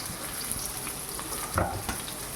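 Onion, ginger and green chilli frying in hot oil with curry leaves, a steady close sizzle with a few brief stirring scrapes near the middle.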